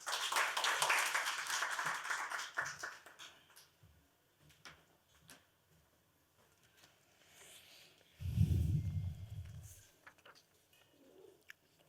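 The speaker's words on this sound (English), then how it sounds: "A round of applause, please." Scattered applause from a gathered audience at the inaugural session of an insolvency conference, faint and thinning out after a few seconds, with a brief thump and quiet room noise following.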